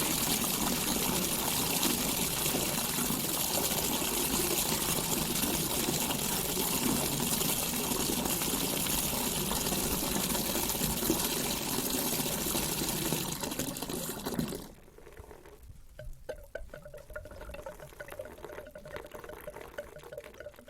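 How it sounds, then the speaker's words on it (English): Hot water pours steadily and loudly into a bathtub with bubbles, then cuts off sharply, leaving quieter trickles and drips in the tub. "Riley began preparing her bath with bubbles and steaming hot water just the way she liked"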